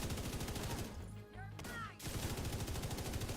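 Light machine gun fire in a video game comes as rapid, dense bursts that break off for a moment and then resume at full volume.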